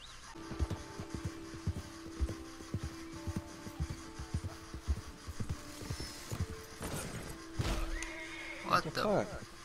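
Horse in the video game Red Dead Redemption 2 whinnies loudly near the end, after a run of rhythmic hoofbeats clopping close by over a steady game backdrop, with a person talking over parts of it.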